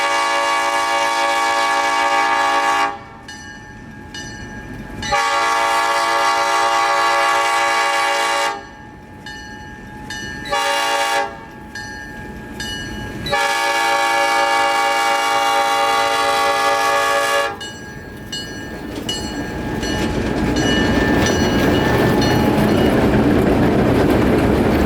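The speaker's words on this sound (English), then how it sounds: "the horn sounds absolutely stunning in my opinion." Freight train horn sounding in several long loud blasts separated by short gaps, close by, with the rumble of the passing train rising and continuing after the last blast.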